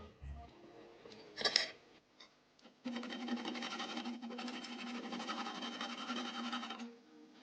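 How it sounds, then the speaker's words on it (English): Steady scraping and sawing of a flash drive circuit board clamped in a vise, with a few sharp knocks followed by about four seconds of continuous rasping cutting at close range. "We take the circuit board and clamp it in a vise to cut off a small part."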